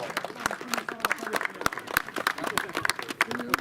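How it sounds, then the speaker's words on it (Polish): Spectators at a police tournament award ceremony in Uniejów applaud the winning Łódź provincial police team, with sharp individual claps standing out over a fainter, moderately distant crowd. "Wielkie, wielkie brawa, szanowni państwo!"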